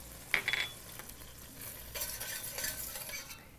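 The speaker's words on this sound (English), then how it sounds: "in the same skillet, we melt some butter and stir in some lemon juice, freshly grated lemon zest, and some chopped chives" A spoon stirs lemon juice, grated lemon zest and chopped chives into melted butter in a skillet, giving soft scraping strokes with a faint sizzle, a few clinks near the start and quiet swirling afterward, close up with no talking.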